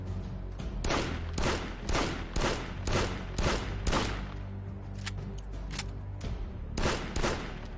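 Loud bursts of full-auto gunfire in the video game Projekt Z, several sharp rapid volleys in a row with brief gaps between them, close and without talk.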